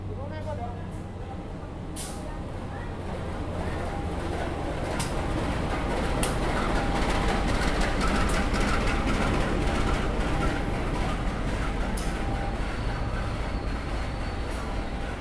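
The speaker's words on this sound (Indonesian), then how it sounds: "Harus tunggu bersilang dulu dengan kereta api lokal ya teman-teman. Kereta penataran dari arah Blitar tujuan ke arah Surabaya Kota." The local Penataran train from Blitar to Surabaya Kota rolls past at Malang station, a broad steady rumble that builds and holds for several seconds while people talk nearby.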